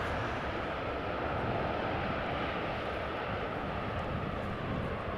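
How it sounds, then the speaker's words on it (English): Boeing 737 airliners arriving at Amsterdam Schiphol after rain produce a steady, broadband jet roar that holds loud and unbroken throughout, without voices. "737s, one from Transavia and the other is from Transavia."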